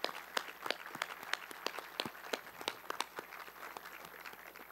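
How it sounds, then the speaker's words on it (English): An audience at a 9/11 monument dedication in Springfield claps in scattered, uneven bursts, sharp individual claps standing out over a thin background of applause, moderately near. "Let's give them a big round of applause."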